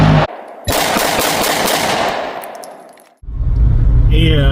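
A Glock pistol fired at target practice gives a loud, sharp near report with a long ringing decay, then another sharp burst of noise after a brief silence.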